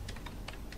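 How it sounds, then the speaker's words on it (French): Keystrokes on a computer keyboard during a search in Windows software, a few separate clicks spread irregularly across a short moment, close and fairly quiet. "Je vais essayer de taper sur mon clavier fabuleux."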